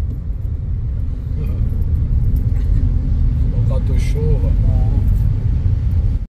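Steady low rumble of road traffic in a jam on a rain-flooded street in Angola, continuous engine and tyre noise close by with a faint horn-like tone, under brief talk.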